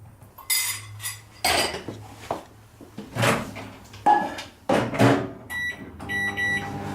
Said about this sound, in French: mettre notre chocolat et notre beurre à fondre au micro-ondes